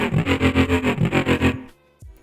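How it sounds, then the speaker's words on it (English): Dubstep bass patch run through a flanger with feedback driven all the way up, a pulsing, wobbling, metallic bass tone in rapid regular swells, loud and alone, cutting off sharply with a brief tail. "The flanger sounds like this."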